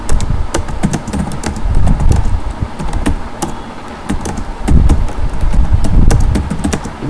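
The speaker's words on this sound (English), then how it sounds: "I love typing bro, dudes." Fast typing on a computer keyboard, rapid irregular clicks and taps close to the mic, coming in dense bursts with brief pauses between them.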